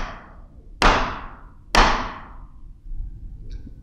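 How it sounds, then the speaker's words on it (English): A mallet strikes a chisel into wood clamped in a vise, two sharp, bright knocks about a second apart, close and loud, followed by a fainter tap. "I will hold my mallet and then hold my chisel"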